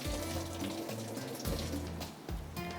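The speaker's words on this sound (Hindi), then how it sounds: "ये मैं पहले इसका बिल्कुल पानी फेंक देती हूँ।" Water drains off boiled moong dal in a home kitchen, splashing and gurgling into a sink as it is poured away. The sound stays fairly quiet throughout.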